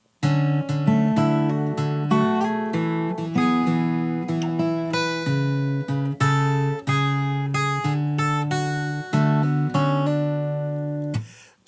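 Fingerstyle acoustic guitar plays the chorus melody of a song, picked notes ringing steadily over bass notes for about twelve seconds, close and clear with no voice.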